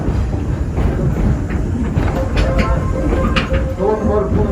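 A coal-fired steam locomotive, the 1873-built Torch Lake, pulls a passenger train with a steady rumbling roll and faint clicks of the wheels over rail joints, heard loudly and continuously from nearby.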